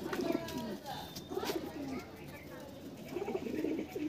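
Desi pigeons in a home loft give several low, rolling coos close by, in bursts at the start, the middle and the end, with light rustles and clicks between them.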